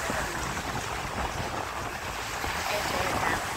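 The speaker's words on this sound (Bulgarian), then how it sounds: "Днеска много вятър духа." Strong wind gusting over the beach, a steady broadband roar with buffeting against the microphone, holding loud and unbroken throughout with no talk.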